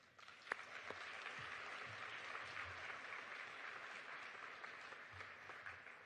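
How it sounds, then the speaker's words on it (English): An audience at a trophy presentation claps for students in sustained, fairly distant applause that holds steady for several seconds; no talking. "We get a round of applause for our students."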